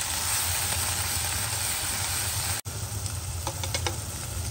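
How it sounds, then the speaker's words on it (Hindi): Ground masala sizzles and fries steadily in hot oil for a rohu fish curry, a continuous close crackle with a brief dropout partway and a few sharper pops near the end. "इसमें मसाले को अच्छे से भून लेना है"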